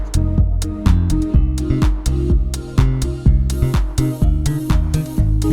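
Roland GV1080 sound module played through a Roland SP-808 effect unit, a loud rhythmic loop of punchy low bass notes and sharp percussive hits repeating steadily with no voices.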